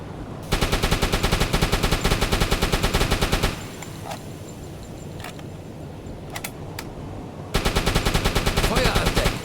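A submarine deck gun in the UBOAT game fires rapid repeated bursts, loud and close, then pauses for a few seconds of quieter ambience with faint clicks before the rapid firing starts again.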